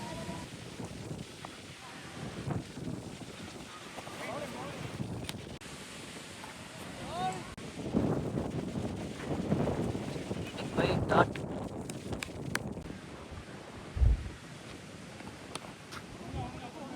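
Wind blowing outdoors at a cricket match, a constant rushing rumble across the whole stretch, with voices talking over it and an occasional thump.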